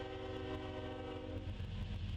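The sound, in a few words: freight train led by Union Pacific GE locomotives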